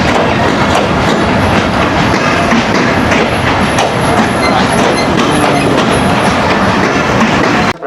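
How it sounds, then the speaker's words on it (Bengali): Passenger train on the Bangladesh railway, the Mohanagar Kapotaksha Express, rolling into a station platform: a loud, steady rumble with continuous clickety-clack of wagon wheels over rail joints and faint high wheel squeal throughout. "মহানগর কপোতাক্ষ এক্সপ্রেস ট্রেনটি অল্প সময়ের ভিতরে 1 নম্বর প্ল্যাটফর্মে এসে পৌঁছাবে"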